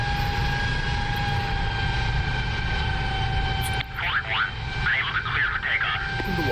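Jet engine of an F-106 Delta Dart spooling up in the DCS flight simulator, a steady loud whine with rising tones and broadband rumble; a radio-style voice chatters over it in the second half.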